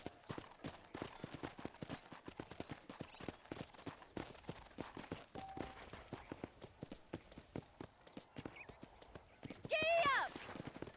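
Horse hooves gallop in a fast, steady clip-clop rhythm in the video game Red Dead Redemption, loud and continuous, with a brief whinny-like call near the end.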